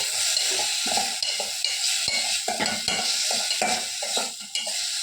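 Spices and cumin powder sautéing in a pan, with continuous sizzling and frying and repeated scrapes and clinks of a spoon stirring against the pan. No voices.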